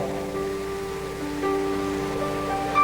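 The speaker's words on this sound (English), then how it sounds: "a cold winter rain begins to fall" A cold winter rain falls steadily by a bean field at dawn, a soft continuous hiss with no voices over it.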